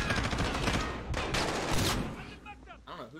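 Rapid automatic gunfire in Call of Duty Modern Warfare, dense bursts of loud close-range shots for about two seconds, then tapering into softer trailing sounds and fading effects.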